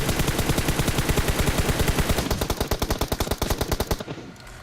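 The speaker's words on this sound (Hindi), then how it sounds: "अब पहला बंदा नॉक करते समय मैं DP की 5-6 गोली चलाता हूँ" Rapid, continuous DP-28 machine gun fire in PUBG Mobile rattles loudly in a steady stream for about four seconds before cutting off.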